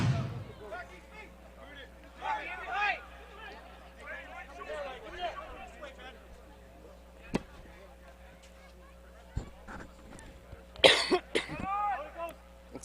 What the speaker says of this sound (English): Excuse my coughing, I can't seem to find a cough button or anything like that.